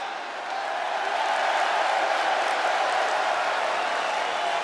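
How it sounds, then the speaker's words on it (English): A large arena crowd in the WWE 2K26 wrestling game cheers and applauds as a woman wrestler is welcomed, forming a steady, dense roar that swells slightly and holds throughout. "The crowd welcomes a woman who's battled back for moments like this"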